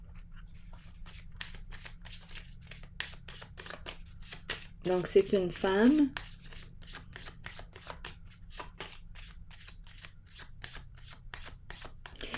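Wisdom cards being handled and shuffled, a long run of quick, crisp riffling flicks at a steady rhythm, close and fairly soft, with someone briefly speaking partway through.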